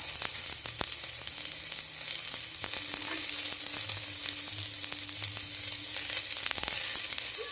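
Onion, green chili and curry leaves fry in a little oil in a pan, a steady soft sizzle with faint crackles and occasional clicks of stirring, moderately quiet and continuous with no voices.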